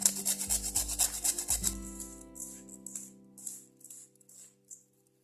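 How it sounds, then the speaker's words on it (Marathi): Whole nutmeg is rubbed against a small kitchen grater for a sesame-jaggery poli filling, giving rapid, close scratchy rasping strokes in a quick rhythm that fade into lighter, scattered scrapes. "थोडं जायफळ पण किसून घालू"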